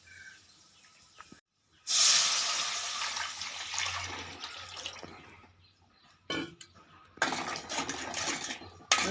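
Horse gram rasam pours and splashes into a pan in two bursts, a hissing, bubbly rush with a short quiet gap between them.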